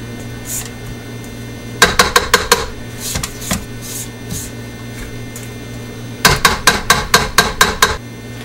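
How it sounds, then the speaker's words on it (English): A spoon or spatula creams softened butter and brown sugar in a bowl, making two clusters of sharp, rhythmic knocks and scrapes against the bowl over a steady low electrical hum. "in the bowl I have a half cup of softened butter and 2/3 cup of brown sugar, and I'm just going to cream them together"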